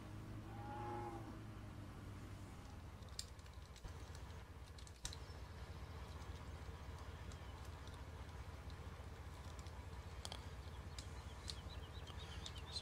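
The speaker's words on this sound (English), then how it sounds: "We have some static cows here with a feed trough." A cow moos in the farming video game Farming Simulator 17, one drawn-out low call at the start, followed by scattered keyboard clicks against a quiet background.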